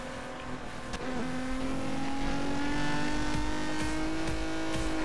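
A Maserati engine in the racing video game Need for Speed: Most Wanted (2012) drones steadily at high revs with a rising whine and occasional shifts and clicks, loud and sustained throughout.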